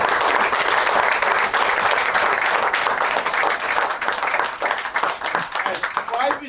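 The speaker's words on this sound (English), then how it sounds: "We should give them a great round of applause." A community meeting crowd in the Bronx gives a loud, sustained round of applause for former NYPD officers, dense and continuous clapping close by with voices mixed in, tapering slightly at the end.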